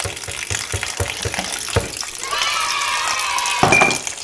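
Water poured from a container over sea moss to cover it completely, a steady gushing fill rising in pitch as the bowl fills, close and loud, following some earlier handling knocks.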